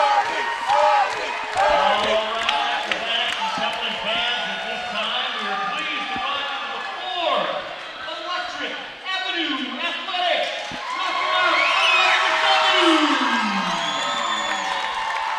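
The Augustana Vikings' home crowd rises in a standing ovation during the 2025 national championship basketball semifinal against Baylor. Sustained cheering and whoops with occasional sneaker squeaks swell loudly toward the end, beneath a commentator talking throughout.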